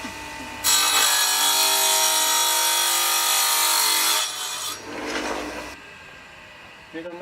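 A knife blade is ground by hand on a whetstone, giving a steady, loud rasping scrape for about three and a half seconds, then a shorter second stroke before it stops.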